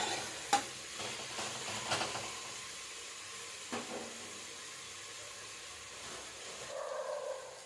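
Mint, coriander and curry leaves frying in a pan for hotel-style egg biryani give a quiet, steady sizzle, broken by a few sharp clinks and scrapes of stirring.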